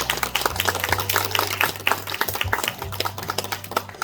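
A crowd at a farm music concert applauds to welcome the MC, with steady close-by clapping in uneven bursts and a low sustained hum underneath.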